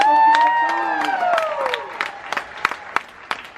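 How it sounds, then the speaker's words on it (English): Aboard a cruise ship, a game-show audience breaks into clapping and whoops while a loud voice rings out at the start, then scattered, fading claps follow. "Give them a round of applause"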